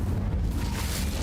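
The Incendio fire spell cast in the video game Hogwarts Legacy, a low, rumbling burst of flame that roars and swells for about a second.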